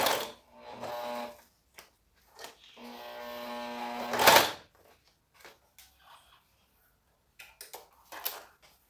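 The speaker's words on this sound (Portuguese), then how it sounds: "Dou uma costuradinha no início" Domestic sewing machine stitching a plastic vinyl sheet: two bursts of fast, even mechanical stitching near the mic with short pauses between them, then a loud rustle and scattered clicks and handling noises.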